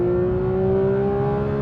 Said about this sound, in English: You want a naturally aspirated motor. You want it to rev really high.